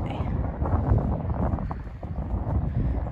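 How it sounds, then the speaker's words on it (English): Wind blows gustily outdoors and buffets the microphone with a low, rumbling roar that rises and falls in loud bursts throughout. "the wind is also making it a little bit hard"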